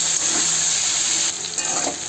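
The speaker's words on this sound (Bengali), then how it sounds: "ভালো করে নাড়িয়ে চাড়িয়ে ভেজে নেবো।" Sliced bitter gourd and potatoes with salt and turmeric sizzle steadily in hot oil, a continuous bright frying hiss with brief stirring scrapes partway through, close by and alone.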